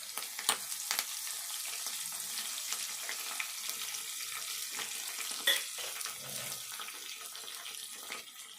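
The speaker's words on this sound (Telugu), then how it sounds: "తాలింపు ఇట్లా వేగినాక కరివేపాకు వేసుకుందాము." Tempering spices sizzling in hot oil with curry leaves added for a dal chapati dish, a steady faint crackle and hiss with occasional small pops, no talking.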